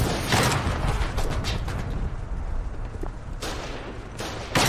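Gunfire in the war video game Foxhole, with several sharp shot bursts over a loud rumbling battle backdrop, close and without speech.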